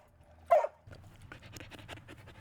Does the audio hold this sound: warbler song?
no